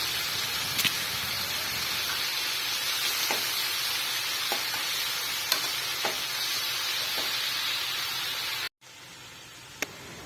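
Amaranth greens sizzle steadily in a hot pan while cooking, a continuous loud frying hiss with occasional pops and clinks, briefly cut off near the end before resuming.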